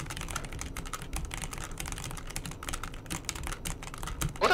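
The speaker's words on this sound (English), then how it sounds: "What that typing noise? Is that you?" A computer keyboard typed on steadily during a PC gaming session, with a dense run of quick, close, crisp key clicks and no talk over it.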